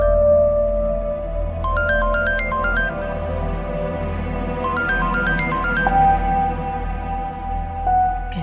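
A phone rings with repeated electronic melodic chirps in two clear bursts over a low background hum, fairly near and moderately loud, with no talking.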